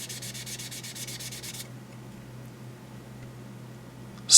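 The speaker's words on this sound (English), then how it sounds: "so I'm gonna keep sanding" Hand-sanding a drywall joint compound seam makes a quick run of rhythmic, scratchy back-and-forth strokes for a moment, then stops, leaving only a low steady hum.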